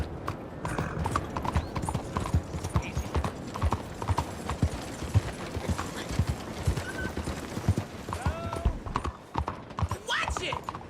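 Horse hooves clip-clopping at a steady gallop in Red Dead Redemption 2, rhythmic and close, with a brief whinny and game voices speaking over the ride.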